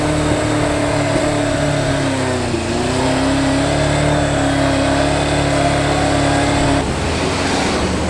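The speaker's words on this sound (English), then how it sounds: "when I pull the clutch in, when the choke's on, it revs loads" A motorcycle engine revs high with the choke on and the clutch pulled in, holding a loud, close, sustained buzzing whine that dips briefly and then cuts back near the end.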